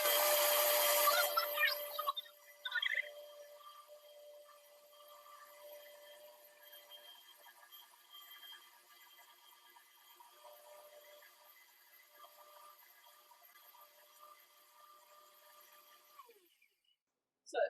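A countertop blender grinds coarse soaked nuts for nut milk, starting with a loud, harsh burst of grinding. It then settles into a fainter, steady motor whir with a tonal hum and cuts off abruptly at the end.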